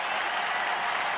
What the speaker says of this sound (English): and the crowd will come to its feet